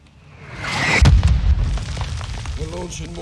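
Mortar launches and impacts in the 2022 video game Call of Duty Modern Warfare 2, a heavy booming blast rolling out over about a second, followed by rumbling battle noise under distant radio voices.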